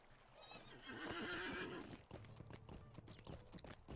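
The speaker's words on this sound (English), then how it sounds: "But I now have a horse." A horse in the video game Lord of the Rings Online gives a shrill whinny, followed by a rapid run of hoof clip-clops, fairly faint throughout.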